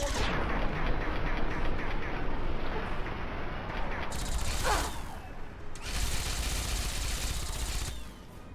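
Gatling laser fire from an overlord in Fallout 3 roars as a loud, dense, sustained barrage, with a sharp burst near the middle and another heavy burst late before it eases off.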